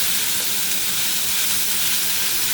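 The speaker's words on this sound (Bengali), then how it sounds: "তেল ছেড়ে দিয়েছে এখন আমি আলুগুলো সব এর মধ্যে ঢেলে দেব" Potatoes sizzle in hot oil in a pan, a steady loud frying hiss with a continuous crackle that holds evenly throughout, with no voices.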